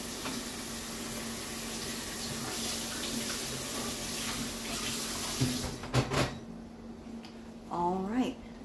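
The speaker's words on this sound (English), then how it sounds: "I need to rinse out the strainer" A kitchen sink tap runs steadily as a strainer is rinsed out, producing continuous close hissing water, with a few clanks near the end as the flow stops and speech briefly follows.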